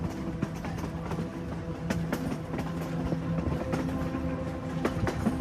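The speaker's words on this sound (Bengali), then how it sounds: "ট্রেন এগিয়ে চলল অজানার দিকে।" A mysterious red train pulls away from Howrah station into darkness, its steady rumble and faint rhythmic clatter of wheels on rails rolling on continuously with no voices.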